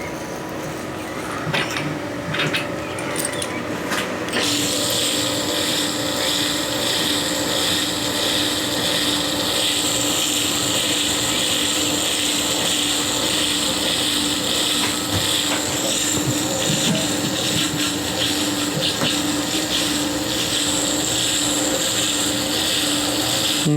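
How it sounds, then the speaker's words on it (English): A pump in a home distilling mash setup runs continuously with its valve shut off so it sucks in air, a steady mechanical drone with rattling and gurgling, preceded by a few louder clanks. "I still got the pump running"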